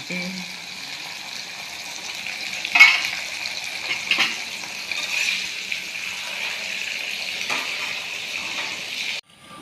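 Jackfruit chips fry in hot oil in a home kitchen, giving a steady broadband sizzle with a few sharper stirring bursts, fairly close and constant until it cuts off near the end.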